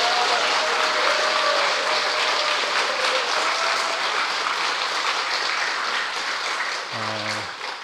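A church congregation at a Sunday service gives warm applause, a loud, dense wash of clapping that carries on for several seconds and thins near the end, where a brief low tone sounds.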